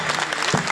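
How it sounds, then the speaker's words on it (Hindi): Audience applause at a Hindi kavi sammelan poetry gathering, honouring the poet's teacher: a dense, steady patter of many hands clapping throughout, fairly loud and without talk. "मेरे गुरुजी के लिए ताली बजा दीजिए"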